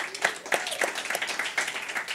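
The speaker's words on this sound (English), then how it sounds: "I want to just give a round of applause to all the experts that are in the room" Scattered applause from a small audience at a public screening and panel event, a few distinct claps amid a faint, quiet patter lasting only a couple of seconds.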